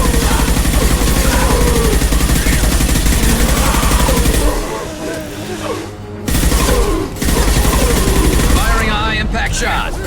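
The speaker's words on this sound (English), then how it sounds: "Firing a high-impact shot." Heavy, loud sustained gunfire in the video game Mass Effect 2 during a combat mission, dense volleys dominating nearly throughout with a brief lull midway, while voices call out over the fighting.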